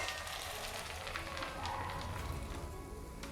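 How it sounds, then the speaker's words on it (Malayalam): Boiling water is poured onto a cup of dry soya chunks, making a soft, steady rushing hiss with a faint sizzling texture that stays even throughout. "അതിലേക്ക് നമുക്ക് ഈ തിളച്ച വെള്ളം ഒഴിച്ചു കൊടുക്കാം"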